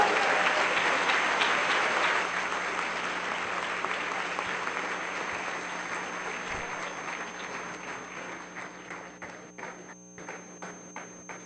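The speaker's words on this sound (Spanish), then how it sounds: "Un fuerte aplauso para despedirlos" A university conference audience at Universidad del Valle de Atemajac in Jalisco gives farewell applause: full dense clapping that gradually thins and fades, ending in a few scattered individual claps.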